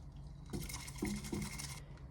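Water is poured into a thick banana matcha drink, a steady splashing pour of about a second and a half, close and fairly quiet, with a faint background before and after.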